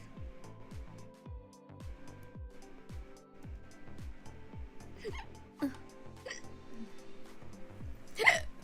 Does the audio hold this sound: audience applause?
no